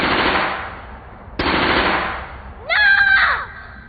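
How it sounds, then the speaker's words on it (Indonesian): Gunshots crack in a forest, two sharp, loud blasts each trailing off in a long echo, followed by a harsh, wavering, bird-like cry near the end. "tidak berselang lama terdengar suara tembakan"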